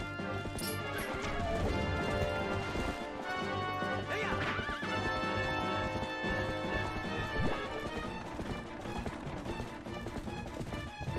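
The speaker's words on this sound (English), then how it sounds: "the horse is running in circles. Look like it's startled by the bombs" Horse hooves clattering and galloping amid crashing bomb blasts in The Legend of Zelda: Twilight Princess HD, loud and busy over dense game music, with sharp smashing hits scattered throughout.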